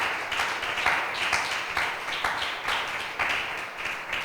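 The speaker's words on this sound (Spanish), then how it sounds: "Denle un aplauso al Rey de Gloria." A church congregation applauding during a sermon, with sustained, dense clapping from many hands in a continuous burst with slight swells.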